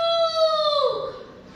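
A single drawn-out crowing call with rich harmonics, loud and close, falling in pitch near the end; a human voice imitating a rooster during a children's storytelling contest.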